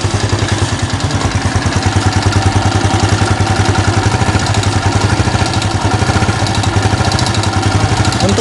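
A Yamaha Jupiter motorcycle engine idles close up, with a steady, even mechanical clatter that keeps a fast regular pulse throughout, loud and alone.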